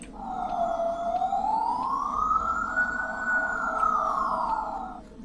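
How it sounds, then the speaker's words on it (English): The Siren Head creature in a horror video game lets out a loud siren wail that sweeps slowly up in pitch, holds, then falls away over about five seconds, with no talking. "That's Siren Head, isn't it?"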